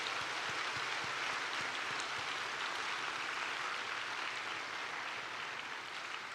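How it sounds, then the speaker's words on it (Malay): Audience at a university convocation session clapping, a continuous even wash of many hands sounding somewhat distant, steady and unbroken for the whole stretch. "Kita berikan sekali lagi tepukan paling gemuruh buat mereka ini."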